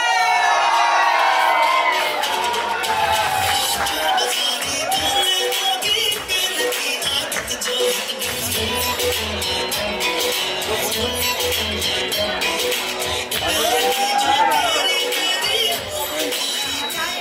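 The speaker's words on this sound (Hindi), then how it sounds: "तालियां!" An audience at a Bollywood film trailer launch cheers loudly throughout, a continuous roar of shouts, whoops and clapping close by, with voices calling out over the din.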